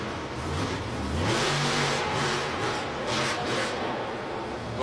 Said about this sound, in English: we just love hearing that big throttle